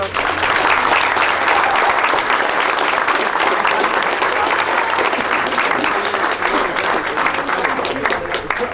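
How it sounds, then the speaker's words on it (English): Supporters after a 2006 Western hurling final between Clashmore Kinsalebeg and Dungarvan give Dungarvan a loud, sustained round of applause, close and continuous, with voices faintly mixed in. "Dungarvan deserves to give itself a round of applause as well"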